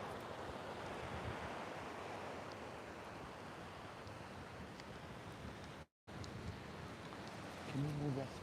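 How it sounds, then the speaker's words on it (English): Steady ocean surf washes in continuously at an oceanfront setting, a dense rushing roar with light wind noise on the microphone and a brief dropout midway. "listen to, notice the sound of the ocean."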